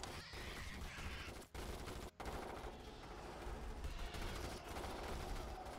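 Sustained automatic gunfire and dense fusillade from the video game Starship Troopers: Terran Command, loud and continuous with brief dropouts and no speech over it.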